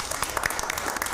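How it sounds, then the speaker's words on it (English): Brief burst of applause from a small group at a parks, recreation and youth programs budget hearing, a quick patter of claps at moderate volume with no voices over it. "I had to give them a round of applause over there."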